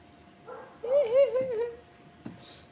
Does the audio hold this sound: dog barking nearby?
yes